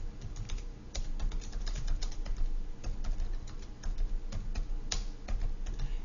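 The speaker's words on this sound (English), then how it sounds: "I'm going to start typing some information" Steady rapid typing on a computer keyboard while entering text into a spreadsheet, dense close-up key clicks in irregular bursts with no speech.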